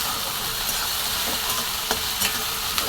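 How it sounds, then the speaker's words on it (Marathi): Onion, tomato and garlic sauté in a hot pan, making a steady, dense sizzle with a few faint scrapes of stirring, close and continuous, with no voices. "नंतर मी कांदा टोमॅटो टाकून घेतला त्यामध्ये थोडंसं लसूण टाकून घेतले आहे आणि इथं बघा असं मी छान परतून घेणार आहे"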